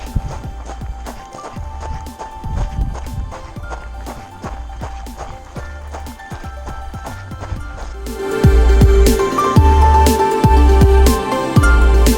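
Running footsteps crunch rhythmically on a soft volcanic sand trail on Santorini, close and steady, growing louder and heavier partway through.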